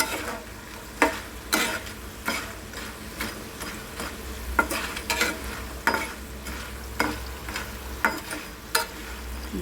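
Potato slices fry in hot oil for sabudana khichdi, a steady close sizzle broken by repeated sharp scraping stirs at irregular intervals, with no voices.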